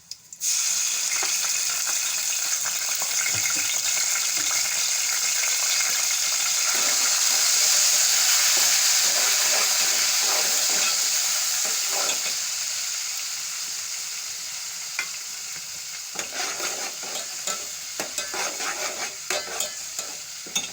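Steady loud hiss of garlic ginger paste sizzling in hot oil, with occasional clinks and stirring scrapes toward the end.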